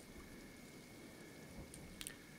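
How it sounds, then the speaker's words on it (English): Steady rain falls in the Kenshi video game near a crater, a soft continuous hiss at even loudness with a few brief brighter patters toward the end and no talking. "Glad it's not acid rain here."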